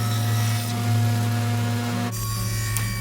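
A power planer and jointer running rough-cut mahogany and walnut boards fresh from the sawmill, a loud, steady mechanical drone whose tone shifts partway through as the cut changes, with no voices.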